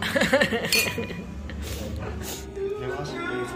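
Drinking glasses clink together in a toast among friends drinking at night, with a brief bright clatter at the start followed by chatter and background noise.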